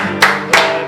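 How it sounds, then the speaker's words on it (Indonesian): Brief claps ring out during a church community online service, two sharp bursts about a third of a second apart, close and fairly loud, with no talking. "Tepuk tangan untuk Febrian."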